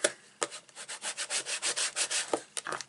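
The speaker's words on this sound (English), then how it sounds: "Give that a rub." Layered paper on a handmade Stampin' Up! infinity card is rubbed by hand, a steady run of soft, close scraping strokes in quick rhythm, with a few sharper taps at the start and end.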